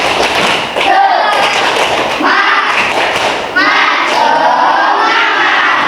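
Indonesian fifth-grade schoolchildren in a classroom perform a rhythmic spirit clapping chant, with loud bursts of clapping and shouted group voices in a repeating pattern that stops abruptly between phrases.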